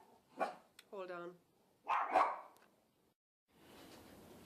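A dog barks close by indoors, a few sharp barks and a whine-like yip spaced over several seconds, separated by quiet gaps, then a faint hiss toward the end.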